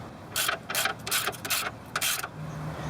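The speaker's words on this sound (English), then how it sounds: "once you snug each side, we'll torque it" A ratcheting torque wrench tightens sway bar bushing bolts on a car, giving six crisp, close bursts of rapid clicking in an even rhythm, each followed by a short pause.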